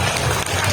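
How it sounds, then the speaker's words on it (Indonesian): Audience applause at a celebration marking the centenary of Nahdlatul Ulama, a brief dense burst of clapping from a crowd, steady and fairly loud throughout. "Kita beri atas tepuk tangan."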